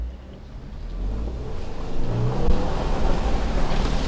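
A Lexus GX 550 held in second gear in manual mode accelerates off-road, its engine swelling louder over a few seconds amid rough rumbling, with no talking.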